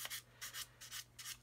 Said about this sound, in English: I'm just going to do a bit more sanding there.